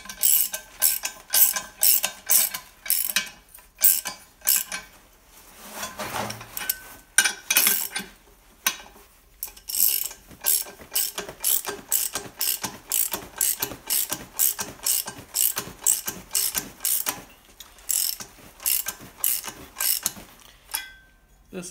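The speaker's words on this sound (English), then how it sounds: "I'm gonna run a die over these things just to clean up the threads" A ratchet driving a die over rusty bolt threads clicks in quick close bursts, pausing between strokes, with a steady repeating rhythm throughout.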